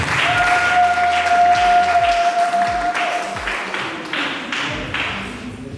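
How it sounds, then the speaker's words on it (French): An audience at an international women's conference applauds for Maman Annie, a sustained wash of many hands clapping with a few sharper taps near the front, slowly tapering toward the end. "On applaudit pour Maman Annie, s'il vous plaît."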